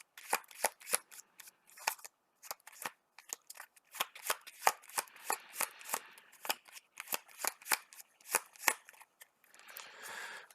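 Marvel Champions cards being shuffled, a rapid series of crisp riffling bursts with short pauses between, close and fairly quiet, ending in a softer rustle.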